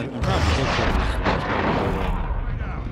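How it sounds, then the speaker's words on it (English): A missile strike detonates in Call of Duty Modern Warfare 2 online multiplayer, a loud rumbling blast with crackling debris that rolls on for a couple of seconds before tapering off. "missile launched"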